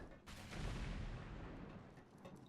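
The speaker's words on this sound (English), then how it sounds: "Grenades are flying everywhere" Grenade explosions in the shooter game Loadout, a continuous barrage of heavy booming blasts and gunfire-like bursts, loud and dense throughout with a strong low rumble.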